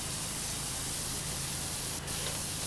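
Steady broadband hiss of a pressure washer jet spraying large surfaces in PowerWash Simulator, a continuous close, loud rush with low droning hum beneath and a brief break in the stream near the end.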